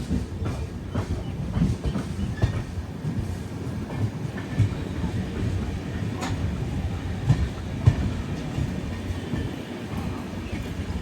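A Rajahmundry–Visakhapatnam MEMU train pulls out from a station, a steady low rumble of rolling stock with scattered wheel clicks and clanks running continuously at moderate distance, no voices.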